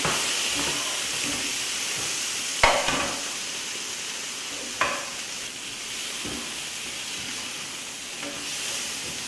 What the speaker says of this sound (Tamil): இப்போ இந்த ஃப்ரை பண்ணி வச்சுருக்க சிக்கனை அதோட ஆட் பண்ணுறோம்